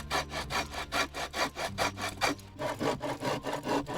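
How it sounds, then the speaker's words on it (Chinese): A hand saw cuts through wood in a steady rhythm of about fifteen quick back-and-forth strokes, close and distinct, briefly pausing midway before resuming; no talking. "因为这里没有电，只能用这个锯子慢慢的锯掉。"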